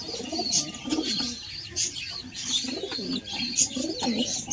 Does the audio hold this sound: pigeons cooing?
yes